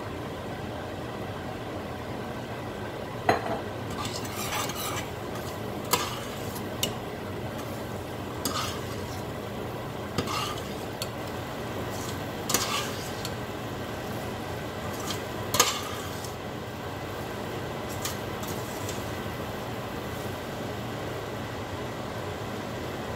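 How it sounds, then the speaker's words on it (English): Masala okra (bhindi) curry with fried okra stirred in a pan over a slow flame: a steady low sizzle broken by intermittent spoon scrapes and clicks against the pan, with no talking. "Cook it like this on a slow flame for 1 to 2 minutes."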